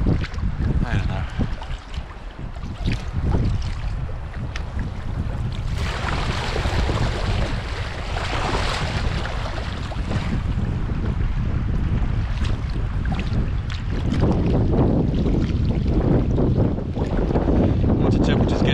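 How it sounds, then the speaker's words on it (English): Strong wind buffets the microphone over rushing water and waves on the River Fal, heard from a sea kayak, a continuous loud roar that swells in gusts. "wind is picking up and we're getting more fetch"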